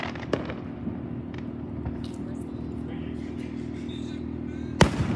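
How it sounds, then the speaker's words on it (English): Independence Day fireworks pop faintly in the distance over a steady outdoor rumble, then one sharp, louder bang lands near the end. "since others are shooting fireworks too"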